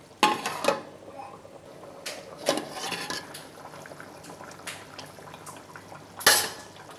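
Cooking pot of simmering beef being handled: a few sharp metallic clanks of a lid and utensil against the pot, the loudest near the end, over a faint bubbling simmer.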